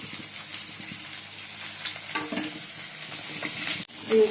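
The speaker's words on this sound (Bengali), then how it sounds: "মাছটা ভাজছি এবার" Fish frying in hot oil in a home kitchen: a steady, close, crackling sizzle runs throughout with no voices, broken by a sharp clatter near the end.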